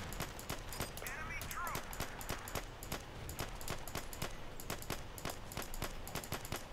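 Rapid bursts of gunfire from the Battlefield 2 video game on the Strike at Karkand map during online multiplayer, sharp repeated shots in quick irregular volleys across the whole stretch over a steady background din.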